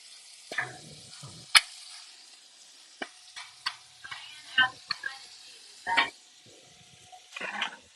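Cheesesteak meat and bread sizzling on a hot griddle, a soft, quiet frying hiss broken by scattered scrapes and clicks of a spatula.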